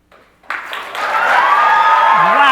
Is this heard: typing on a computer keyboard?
no